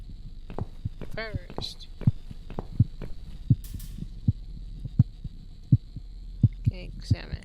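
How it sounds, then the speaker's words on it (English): Racing heartbeat in the video game The Cat Lady, a steady stream of thumping beats that are loud and close over a low hum, with someone talking briefly over it. "Why is heartbeat racing in my ear?"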